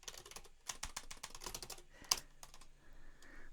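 Rapid clicking on a computer keyboard as a command is typed, with dense close keystrokes, a short pause and a few final taps, quiet and with no voices.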